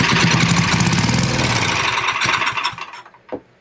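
An old Powermate portable generator engine runs loud and steady, its mid-pitched drone wavering and dropping off near the end as it sputters toward stalling, with a brief final burst before fading.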